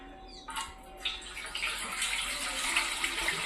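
Water poured into a panakam drink mixture for Sri Rama Navami, a steady splashing pour that starts abruptly and continues close and loud to the end, with no talk.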